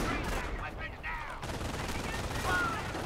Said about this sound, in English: There you go, the grenade's gone in